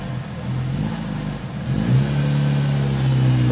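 A Nissan B14 car engine runs after a fuel pump replacement, TPS calibration and distributor timing fix for an idle problem, a loud, steady mid-pitched hum that revs up slightly partway through and then holds.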